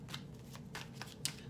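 Tarot cards being shuffled and drawn, a quick series of soft papery riffles and snaps close by, with one brighter flick near the end, fairly quiet and free of talk.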